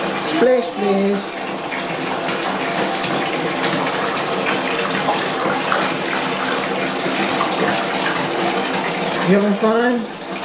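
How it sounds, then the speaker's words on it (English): A child splashes water in a bathtub, with continuous running, sloshing water throughout and a few short voices rising over it near the start and end. "Splash, splash."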